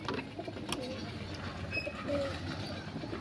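Soft pigeon coos and flutters over a steady low rumble of outdoor background noise, with faint bird calls scattered throughout.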